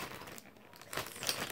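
Plastic crayon packaging bag crinkles and tears, a quiet rustle at first, then a louder burst of crisp crackling toward the end.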